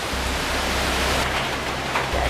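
Heavy rain pours in the Amazon rainforest of Ecuador, a steady, dense hiss of water falling close by with no pause across the short stretch.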